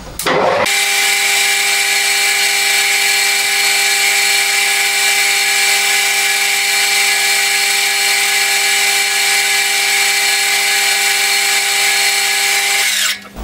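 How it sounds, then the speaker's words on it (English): A lathe spins a jewellery flat plate while a Scotch-Brite pad buffs it. The result is a steady, loud motor whine with a constant high tonal hum and soft rubbing noise, starting and stopping abruptly, with no speech. "I'll just hit it with some Scotch-Brite, see if I can bring a bit more mirror finish on it"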